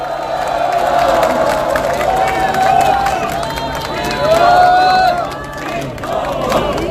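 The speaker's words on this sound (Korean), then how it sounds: "박수로 맞아주십시오." A crowd at an outdoor Liberty Korea Party political rally claps and cheers, with shouting voices and a steady roar of applause for about seven seconds. It swells near the middle and stays loud throughout.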